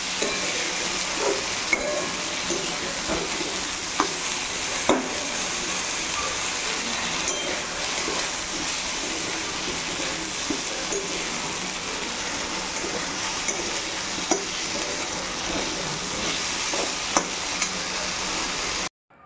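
Ridge gourd, potato, eggplant and soya chunks sizzle steadily as a vegetable curry is stir-fried in the evening, with occasional sharp clacks of the spatula against the pan over a constant frying hiss.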